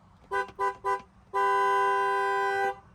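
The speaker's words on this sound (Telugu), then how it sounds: "హారన్ కూడా సాలిడ్ ఉంది." A car horn sounds three quick short honks, then one long sustained blast of about a second and a half, loud and close with nothing else around it.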